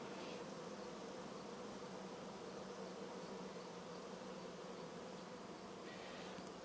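A honey bee swarm buzzing around a hive, a faint, dense, continuous hum of many wings close to the microphone, steady throughout with no voices.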